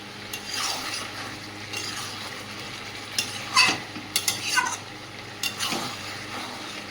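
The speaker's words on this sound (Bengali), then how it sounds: "এরকমভাবে ঢাকনা দিয়ে দিয়ে ভালো করে কষিয়ে নেব।" A whole chicken sautés in a pan under a lid, a soft sizzle running steadily beneath sharper clatters and scraping stirs that come in short bursts near the middle and end, close by with no voices.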